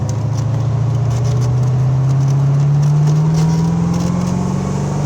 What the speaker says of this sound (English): You can hear the turbos.